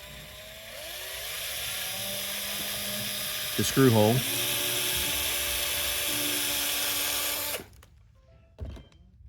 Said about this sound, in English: basically drill it out